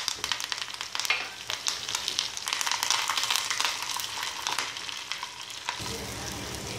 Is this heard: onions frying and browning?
yes